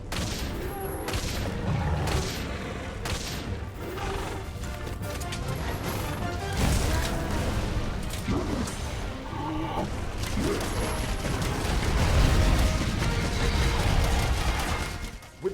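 A hunter fires a bowgun at a monster in Monster Hunter: World, with repeated sharp shots and impacts over heavy rumbling and crashes, building in loudness through a dense, busy battle mix.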